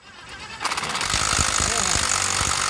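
A DeWalt impact wrench works on a Chevy Silverado during a brake job, starting with a burst of rapid hammering rattles that settles into a loud, continuous buzzing whir, close to the listener.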